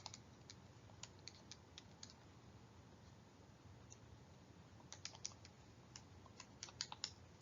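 Quiet computer keyboard typing, a scatter of light key clicks with a busier cluster near the end, heard alone against a low background hum.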